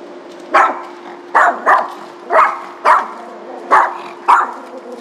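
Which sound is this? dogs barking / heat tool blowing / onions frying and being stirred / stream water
dogs barking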